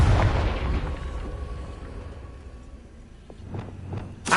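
A Confringo blasting spell bursts in Hogwarts Legacy as a loud boom at the start that rumbles away, followed by a few sharper cracks and a final burst near the end.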